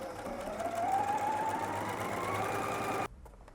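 A sewing machine stitches a dress in one close, steady whirring run whose pitch slowly climbs as it speeds up, then stops suddenly.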